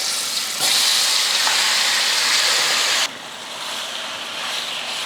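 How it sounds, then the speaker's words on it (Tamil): Marinated chicken hitting hot oil in a kadai, a loud, dense hissing sizzle that jumps up as the pieces go in, then settles into a softer steady frying, close with no talk. "சிக்கனை நல்லா எண்ணெயில் வறுத்து எடுத்துக்கலாம்."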